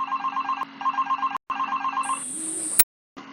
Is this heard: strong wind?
no